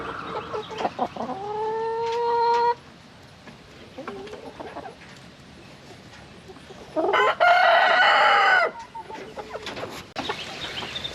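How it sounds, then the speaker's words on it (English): Several chickens, including newly added hens of a couple of different breeds on a farm, cluck loudly and close by while a rooster crows in long drawn-out calls, with quieter clucking between the bursts. "we got 5 new hens. They're a couple different breeds."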